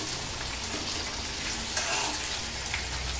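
A handful of curry leaves frying in hot oil for a Tamil fish curry (meen kuzhambu): a dense, even sizzling crackle that carries on without a break, with no voice over it.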